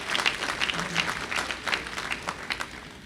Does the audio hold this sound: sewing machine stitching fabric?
no